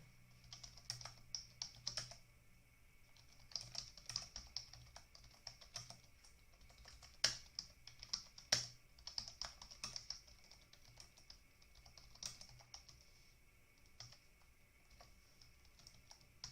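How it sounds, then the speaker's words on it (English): Steady typing on a computer keyboard, a quiet run of key clicks with irregular bursts and a few sharper, louder taps, heard alone in a calm room. "I'll just type that in Discord."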